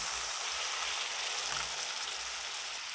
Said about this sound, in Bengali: অল্প পরিমাণে জল দিয়ে দেব।